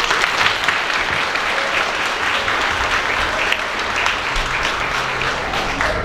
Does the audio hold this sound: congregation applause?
yes